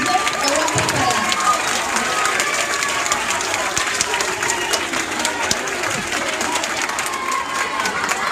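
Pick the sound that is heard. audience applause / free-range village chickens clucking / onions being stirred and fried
audience applause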